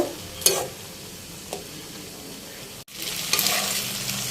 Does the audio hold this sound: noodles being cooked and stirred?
yes